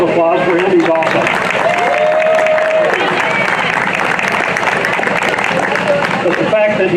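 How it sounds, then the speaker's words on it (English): A crowd at an outdoor Pride Day event applauds loudly and continuously, clapping mixed with cheers and whoops, with voices rising above the steady roar. "One more round of applause for him,"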